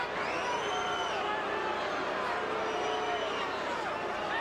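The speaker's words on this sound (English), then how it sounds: "And the Boo Birds come out in the crowd." A boxing crowd at the Evander Holyfield vs Lennox Lewis rematch booing, a steady, dense roar of many voices filling the arena without pause.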